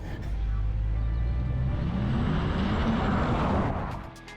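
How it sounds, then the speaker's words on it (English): A 2020 Porsche Taycan 4S electric car launches under launch control in Sport Plus mode, a steady rising electric whine and road roar that swells for about four seconds and then fades. "put it over into Sport Plus mode, left foot on brake, throttle fully depressed, launch control active."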